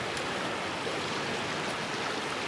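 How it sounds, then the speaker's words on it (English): Creek water flows steadily past a snowy bank in melting-snow conditions, a dense, continuous rushing wash that stays close and even from start to finish, with no voices. "It's beautiful here by the creek."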